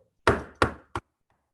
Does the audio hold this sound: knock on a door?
yes